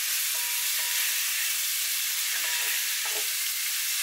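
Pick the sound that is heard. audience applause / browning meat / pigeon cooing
browning meat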